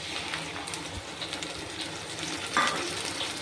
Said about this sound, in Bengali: এটা দিয়ে ভালো করে নেড়ে নেব